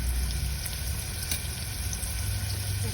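Beans and potato curry fries in a pan with a soft, continuous sizzle and faint bubbling, quiet and close with no voices.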